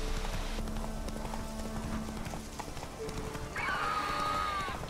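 Roach, the horse in The Witcher 3 video game, gallops with steady rhythmic hoofbeats under ambient game sound, then gives a clear, loud whinny near the end.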